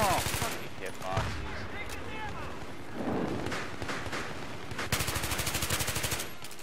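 Rapid automatic gunfire in Battlefield 3 on the Markaz map during a Rush attack, sharp bursts near and far, including a long steady rattling volley near the end, with a player talking over it.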